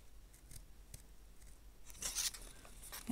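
Faint snipping of scissors cutting paper, a few soft crunchy cuts close by in a quiet room.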